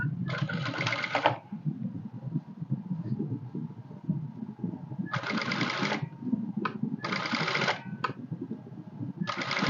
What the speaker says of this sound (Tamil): ஸோ இப்போ நம்ம பைப்பிங்கை ஒட்டி நீட்டாக ஒரு எஜ்ஜு தையல் ஒன்று போட்டுக்கலாம்.